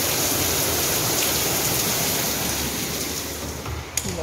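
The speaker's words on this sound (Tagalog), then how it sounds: "Lakas ng ulan, guys." Heavy rain pounds down in a loud, unbroken roar of dense drops. It eases slightly toward the end, where a brief knock sounds.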